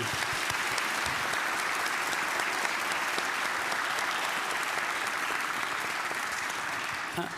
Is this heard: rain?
no